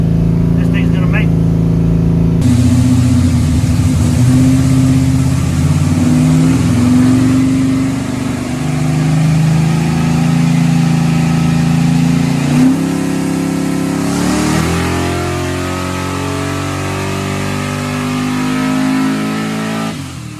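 A car engine strains through a long, loud wide-open-throttle pull on a chassis dyno, the revs climbing steadily for about twenty seconds before easing off.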